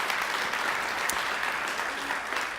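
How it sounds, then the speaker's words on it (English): An audience gives a dense, steady round of applause that stays loud and even throughout. "Give yourself a round of applause for that."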